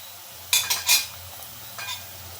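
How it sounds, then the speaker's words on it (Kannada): Onions sizzle and fry in a pan for avalakki (flattened rice) while a utensil stirs them, giving a few short scraping bursts over a steady low sizzle, close and moderately loud, with no one talking. "ಆಲ್ಮೋಸ್ಟ್ ನೋಡಿ, ಈಗ ಈರುಳ್ಳಿ ಇಷ್ಟು ಫ್ರೈ ಆಗಿದೆ"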